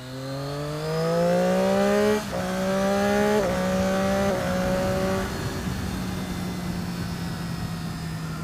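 A 2014 Triumph Daytona 675R sport motorcycle's engine is heard while riding: loud, close, with rising revs through quick upshifts about every second, then a steadier drone at speed.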